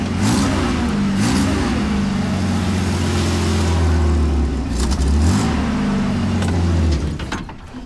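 A project car's engine revs loudly while driven, a strong sustained roar with rising and falling pitch over about seven seconds before easing off at the end, close to the listener.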